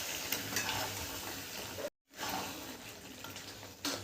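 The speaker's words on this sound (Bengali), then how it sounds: "এটাকে দিয়ে আমি বেশ কিছুক্ষণ ধরে কষে নেব।" Boiled spinach paste and chicken stir-frying in a pan, a steady close sizzle with stirring scrapes, briefly cut out for a moment midway, no talking.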